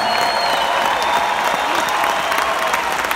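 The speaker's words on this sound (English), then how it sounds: "I'd like to give them a round of applause." A crowd at a tribute concert in Los Angeles claps steadily throughout, a dense, sustained applause with faint cheering mixed in.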